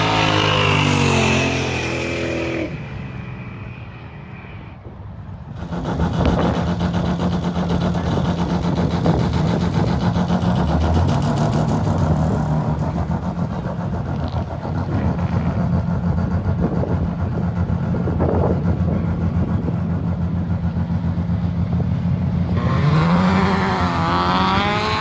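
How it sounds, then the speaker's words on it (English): Roll racing cars at the Chrome Horsepower Festival, engines revving and roaring loudly and close by for most of the stretch, with a quieter gap near the start and another surge of revving at the end; no one talks. "Roll Racing up first, the burnouts at the end."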